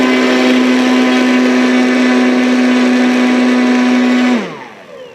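A model fixed-wing aircraft's electric motor runs at full throttle, giving a loud, steady, high-pitched whine for about four seconds before the throttle is cut and the pitch winds down to quiet.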